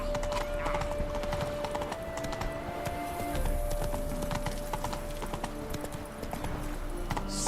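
Roach the horse gallops across open ground in The Witcher 3 on PS4, hooves clip-clopping steadily and fairly close under a busy layer of game ambience and music, with a brief whinny.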